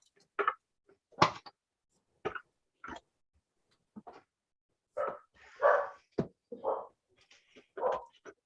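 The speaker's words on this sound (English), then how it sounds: "Shut up, stupid dog. Barks at her own shadow, that one." A dog barks in a series of short, sharp, irregular barks, some doubled, fairly close and loud against a quiet room.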